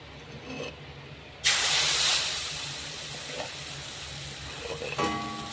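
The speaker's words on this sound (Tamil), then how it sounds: "இப்போ நான் கொஞ்சம் ஊற்றி காட்டுறேன்" Appam batter made with leftover rice and soda hits a hot pan, bursting into a loud, sudden sizzle that settles into a steady, slowly fading hiss, heard up close.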